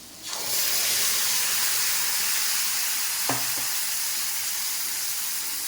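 Chili paste drops into hot oil with fried potatoes in a pan and sets off a loud, steady sizzle and hiss. One short clatter of a spoon against the pan cuts through partway.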